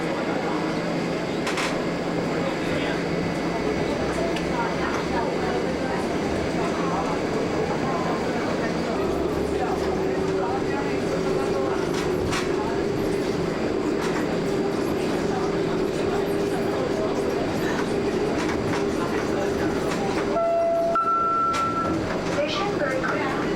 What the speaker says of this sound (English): riding the monorail.